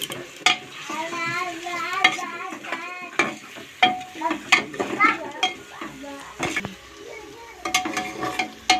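Biryani masala frying in a pressure cooker, heard as a busy run of stirring scrapes and metal clinks over a steady sizzle, close and fairly loud with no voice over it.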